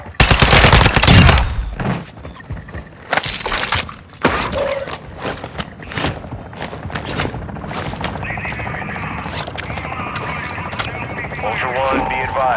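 Heavy gunfire in Call of Duty: Modern Warfare 2 DMZ mode, with dense bursts and volleys of shots, loud early then continuing under game radio voice lines and other battle noise.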